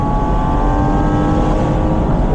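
A Porsche 981 Boxster's engine at 90% throttle on a track, a loud steady roar with sustained tonal drone filling the whole moment, no talk.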